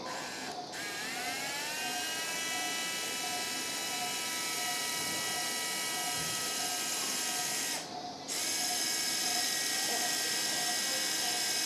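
A surgical power drill drives a steel pin into a dog's bone during a medial patellar luxation repair, giving a steady high-pitched whine that rises as it spins up and briefly dips partway through, over constant background noise.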